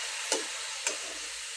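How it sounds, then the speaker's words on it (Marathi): A spoon scrapes twice through thick coconut barfi mixture in a pan over a low gas flame. Soft frying sizzle runs underneath throughout. "कसं हलवून हलवून हलवून कमी गॅसवर करायचे"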